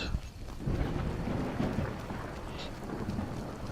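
Rain falling steadily during a Skyrim thunderstorm, a dense broadband wash with low rumbling thunder underneath, constant level throughout and no talk.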